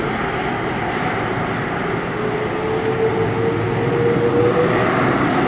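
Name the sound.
Virgin Atlantic Airbus A330-300 jet engines at Atlanta airport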